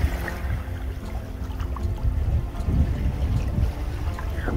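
Sailboat moving at about 3.5 to 4 knots past Simpson's Bay, St. Martin, with steady water rushing and sloshing along the hull under low wind rumble, continuous and fairly close.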